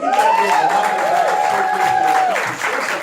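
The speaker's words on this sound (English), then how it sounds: "Y'all give me one more round of applause." A crowd at a marketing event gives a loud, continuous round of applause with cheering and a sustained whistle-like tone over the clapping, fading slightly toward the end.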